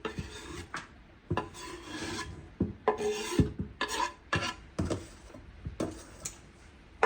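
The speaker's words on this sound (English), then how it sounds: "I'm going to give it a good stir, mixing it all up really well" Chopped lettuce, carrot and apple for kimchi are stirred and mixed in a bowl, producing repeated close rubbing, scraping and squelching strokes in an uneven rhythm, with no talking.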